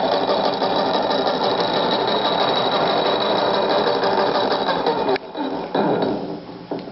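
An antique farm air compressor with original valves and gauges runs steadily with a rapid mechanical chatter, loud and close, then cuts out briefly and restarts near the end.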